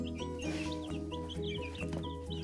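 Chickens cluck and chatter inside a chicken coop, with new young chicks and older hens mixed together; steady, fairly loud overlapping clucks and short calls fill the whole stretch with no talking.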